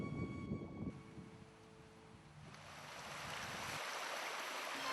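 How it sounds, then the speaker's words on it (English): The Tsav River runs through a forest reserve, dropping over small waterfalls, making a steady broadband rush of flowing water that grows louder and fuller over the span, with no voices. "The Tsav River flows through the reserve, forming small waterfalls here and there."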